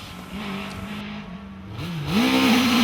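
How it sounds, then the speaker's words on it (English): A supercharged, bike-engined Ford hillclimb race car at Loton Park drones steadily, then its revs climb sharply and loudly as it pulls away up the course. "Tony Hunt's version is fitted with a supercharger, which puts the car up into the 2-litre class"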